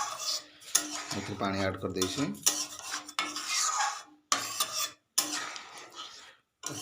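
A spoon stirs egg curry in a metal pot after water is added, with repeated scraping and clinking against the sides in short bursts broken by pauses, and a voice speaking over parts of it.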